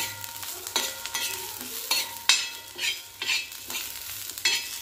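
Fried potato pieces and drumsticks being stirred and mixed in a pan, with repeated scraping strokes and soft sizzling in an uneven rhythm, close and fairly loud.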